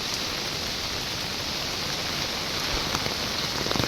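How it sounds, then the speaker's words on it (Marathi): Heavy rain pours down steadily, a dense continuous roar of hissing noise with scattered louder drops near the end, close and uninterrupted, with no voices. "मित्रांनो हा आवाज येतोय तो पावसाचा आहे"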